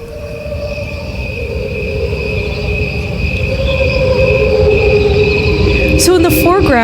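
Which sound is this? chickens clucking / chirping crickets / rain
chirping crickets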